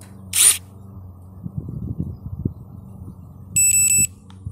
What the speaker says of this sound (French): il faut appuyer entre 3 et 5 secondes sur la gâchette et que ça fasse bip bip